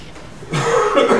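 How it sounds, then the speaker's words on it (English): A man coughs once or twice during a talk on a rabbi's insights, the close, throaty bursts loud against a quiet room, attributed to seasonal pollen in Charleston. "I'm sorry if I cough a little bit"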